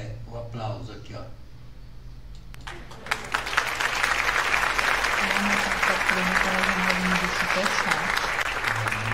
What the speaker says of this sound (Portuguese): esse aqui é o aplauso aqui, ó